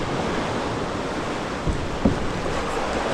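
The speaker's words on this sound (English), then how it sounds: "It looks like the set waves are coming through." Ocean waves breaking near sea cave walls at Channel Islands National Park, a continuous roaring wash of surf with wind noise and a couple of dull thumps, loud and close.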